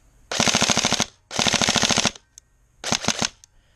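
Tokyo Marui Recoil Shock MK18 airsoft gun, wired to Deans, firing full-auto: three rapid mechanical bursts, two long ones and a shorter final one, each a fast rattling string of shots with recoil clacks, close and loud, with no talking.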